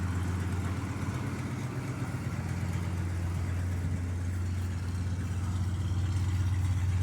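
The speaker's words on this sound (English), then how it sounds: "when you put some effort into the motor, the exhaust manifold leaks pretty good" A 1979 Ford motorhome engine with a leaking exhaust manifold runs steadily nearby, a constant low rumble with a raspy, puffing hiss layered over it, unbroken throughout with no voices.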